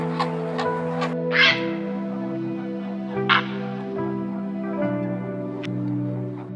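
Hundreds of flamingos calling in courtship display below a treetop heron colony: a dense, continuous goose-like honking chorus with a few sharper, louder squawks rising over it.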